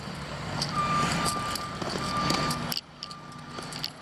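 Trucks pulling out of a construction site, a steady engine rumble under a continuous high reversing beep that repeats at a fixed rate, then quietens after a few seconds.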